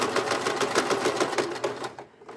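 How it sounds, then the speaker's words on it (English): A sewing machine stitches elastic flat down onto a swimsuit ruffle, a close, rapid, even run of needle clatter that slows and stops just before the end. "I'm going to sew this flat down to the ruffle"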